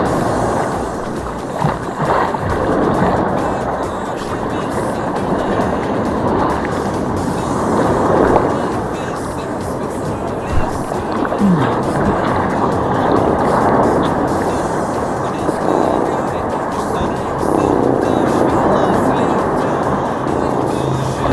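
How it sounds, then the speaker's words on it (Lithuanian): Sea waves roll onto a crowded beach with a strong rushing wash and wind noise, swelling and fading in slow surges, with people talking nearby. "Taip, tik bangos."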